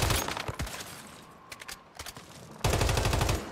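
Rapid bursts of gunfire from a legendary weapon in the shooter game Once Human, loud and close, with a brief lull of clinks and impacts in the middle before the firing resumes at full strength.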